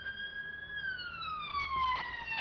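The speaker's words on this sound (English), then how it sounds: "I can hear sirens now." A police siren wails with a steady, slowly falling tone, heard at moderate distance with faint background noise.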